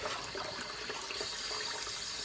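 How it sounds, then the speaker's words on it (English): Tap water runs steadily into a sink as raw beef is washed for a carrot stew, a continuous close rushing splash with no voices. "I continue to wash my beef"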